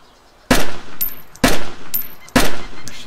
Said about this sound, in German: Ich schieße, ich schieße.